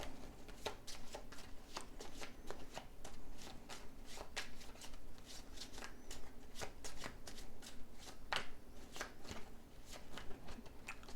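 Playing cards being shuffled and riffled repeatedly during a card game, a steady run of crisp rapid flutters and snaps close by, with no talking.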